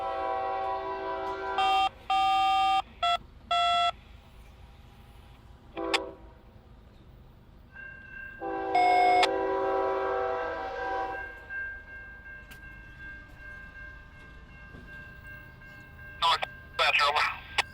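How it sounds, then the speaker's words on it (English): Several short Norfolk Southern train horn blasts sound in bursts, one longer honk in the middle, with a steady tone and people talking softly between the blasts. "I did hear some train noise."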